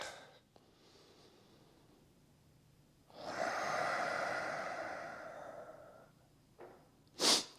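Deep breathing held in a yoga hip flexor stretch: a long, close, airy exhale swelling and slowly fading over a few seconds, then a short sharp intake of breath near the end.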